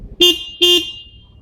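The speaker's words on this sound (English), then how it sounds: "So here's the horn." Two short, loud beeps from a 2012 Hero Honda Hunk motorcycle horn, close up, with a brief pause between them.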